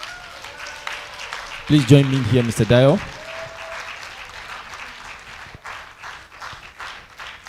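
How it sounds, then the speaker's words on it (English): Audience applause and clapping fill a teachers' development seminar hall, steady and moderately loud throughout, while a presenter's voice briefly speaks over it near the start. "Let's keep clapping until he comes, please."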